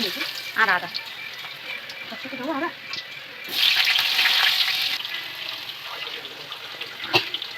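Food frying for a home-cooked lunch, a steady hiss that swells loudly midway, with stirring, some running water and brief voices nearby.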